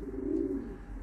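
Male homing pigeons coo in a steady, low throbbing run while courting a female in a loft, close and fairly loud with no other sounds.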